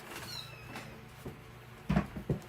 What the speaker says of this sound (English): one of the kitties, I hear them. They're screaming because they don't like it when I make noise.